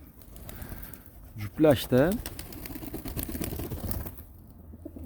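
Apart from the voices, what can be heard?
pigeons cooing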